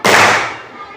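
A classroom of students claps together in a clapping game, making one loud, sharp burst of many hands at once, with a short noisy tail fading afterward.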